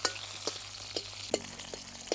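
Quiet, steady sizzling of green chilies frying in a pan, with a few soft stirring taps, no voices.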